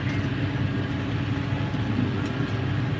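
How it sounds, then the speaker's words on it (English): A heavy tractor diesel engine drones steadily at close range, a deep, constant rumble with a faint rising turbo whine layered on top. "Really hear the turbo kick in on this tractor."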